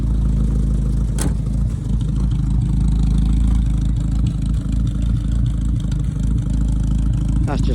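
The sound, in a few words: 1967 Morris 1100 ADO16 car engine running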